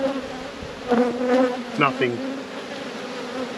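Honeybees buzz around an open hive during a frame inspection, a faint steady hum punctuated by a few louder close wingbeat passes, with a person speaking briefly over it.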